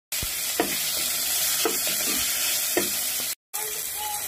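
Pork sautéing in a pan for sinigang na baboy, a loud steady sizzle broken by several distinct stirring knocks and scrapes, heard close with no talking.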